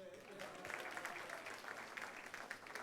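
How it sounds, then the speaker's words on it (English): Faint, steady applause from a convention audience at a national HR convention and expo, a dense patter of many hands heard at a distance with a voice faintly underneath. "Let's give a round of applause to Iyaz and immerse into the future of work."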